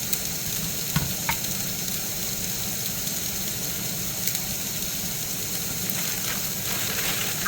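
Bacon frying in a pan for a keto bacon cheeseburger bowl: a steady, close sizzle with a few faint clicks and pops, and no talking.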